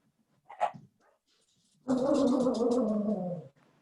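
A dog barks in the background during an online resilience workshop, with one short yelp followed by a longer, loud, sustained bark-growl, and no voices over it.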